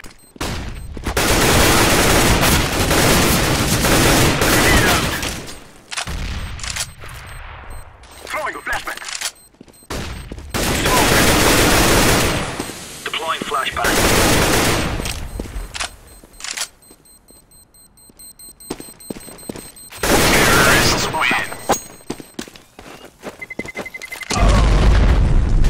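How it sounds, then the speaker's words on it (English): Gunfire and a grenade explosion in the game CS:GO, with loud bursts of rapid shots and booming blasts in several clusters, separated by quieter gaps of game sounds, and a voice speaking at times. "I'm throwing a grenade."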